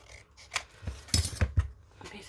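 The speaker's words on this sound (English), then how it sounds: "I might do the top. Just trim along that side." Scissors trimming along the edge of leftover paper ephemera, a few close, crisp snips and rustles in an irregular rhythm with a short pause between cuts.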